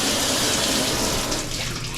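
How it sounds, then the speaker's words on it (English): Water pours steadily from a hotel room shower with a massage spray head at the Springhill Suites in Naperville, a close, loud, continuous hiss of spray with no speech. "Let's check the water pressure."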